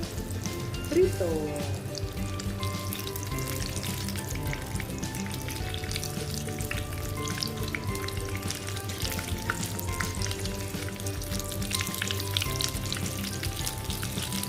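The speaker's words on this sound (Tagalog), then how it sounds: "Ang ganda ng pagka-prito." Steady crackling sizzle of lumpia deep frying in hot oil, continuous and close, with occasional bubbling pops throughout.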